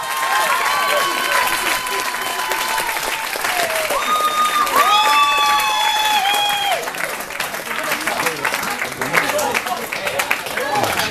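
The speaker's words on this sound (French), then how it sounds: "On peut encore applaudir nos mariés ce soir" Wedding guests applauding the newlyweds at an evening reception, sustained loud clapping throughout with whoops and cheers rising over it in the middle.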